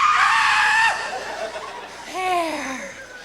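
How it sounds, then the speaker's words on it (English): A person screams loudly and shrilly at close range, breaking into wavering, laughing cries toward the end. "do you want to scream?"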